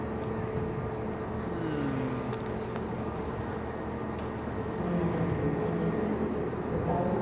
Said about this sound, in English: Look, see a light down the railroad track? Oh, good. A train coming in.